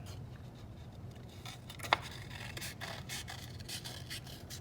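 Scissors snipping through orange paper to cut a semicircle, quiet close rustling and scraping strokes with one sharper snip, faint and without talk.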